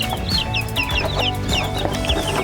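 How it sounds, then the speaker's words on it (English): American Bresse chicks and chickens clucking and peeping steadily in a brooder, a busy layer of short chirps and clucks over a low background hum, fairly close, with no talking. "Oops, step in the water, you silly chicken."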